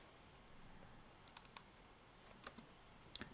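Faint, sparse keystrokes on a computer keyboard while writing Java code in Android Studio, a few isolated clicks and a short cluster against a quiet room hiss.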